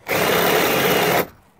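A power drill whirs at full speed for about a second, loud and close, drilling out a bolt head, then cuts off abruptly.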